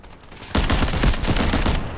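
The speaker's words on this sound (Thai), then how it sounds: "โอ้ยิงก็ไม่โดนอะไรวะเนี่ย" A Mini-14 rifle in the shooter game Delta Force fires a loud, rapid burst of shots that starts after a brief quiet moment and runs close and continuous to the end.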